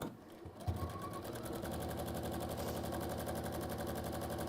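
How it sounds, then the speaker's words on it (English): A sewing machine runs steadily, basting stitches down through fabric with a fast, even mechanical rattle that starts after a brief pause and carries on close and continuous. "Now then, I'm going to sew this down."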